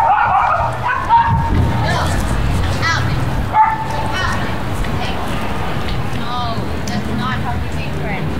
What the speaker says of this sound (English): he seems healthy and he's barking